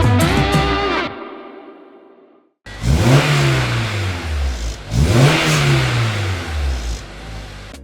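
A Honda S2000 engine revs through a Milltek exhaust, starting with a loud rasping burst that cuts to silence, then two strong rising blips that sweep up and fall away, close and forceful.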